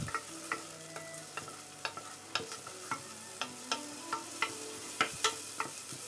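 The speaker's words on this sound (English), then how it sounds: "And fry it for 2 to 3 minutes until it's fragrant." Tom Yum paste fries in a pan with a soft steady sizzle, broken by repeated sharp scrapes and taps of stirring at an irregular rhythm, close and fairly quiet.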